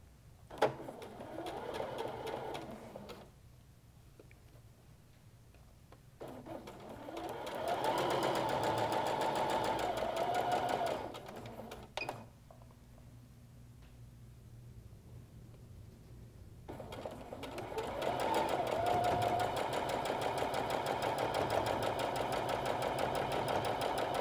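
A sewing machine stitches strips onto a quilt block in several steady whirring runs of several seconds each. Quieter gaps separate the runs, and the motor sounds close and even.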